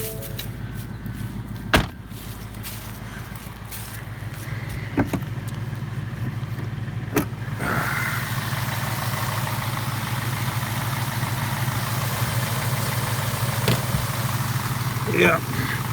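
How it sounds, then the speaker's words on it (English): A 2018 Ford Mustang GT with the 5.0 V8 and GT Performance Package idles steadily outside, a continuous low rumble with a few short clicks and clunks over it, while a voice talks briefly. "when we're done with this, we'll rev it up a little bit from the outside."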